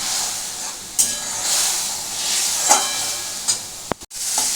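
Ginger and garlic paste sizzles in a pan over raised gas heat while being stirred for begun keema bharta, a soft steady hiss broken by occasional spatula knocks and clinks on the pan.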